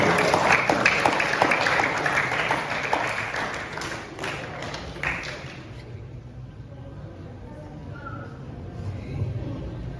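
A school audience at a legal awareness event gives a round of applause, dense clapping for several seconds that thins and fades into quiet room murmur.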